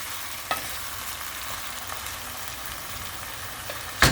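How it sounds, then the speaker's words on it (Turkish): Tomatoes simmer in a pot with a soft, steady frying hiss and a few faint scrapes of stirring, ending with a sharp clack as the lid is closed. "Karıştırıyorum kapağını kapatıyorum."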